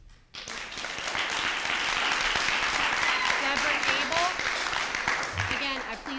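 A school board meeting audience breaking into sustained applause, dense and steady clapping from a sizable crowd that swells after a quiet start and keeps going without a break, with faint voices underneath.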